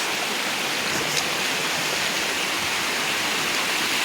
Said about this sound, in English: we got another little creek coming in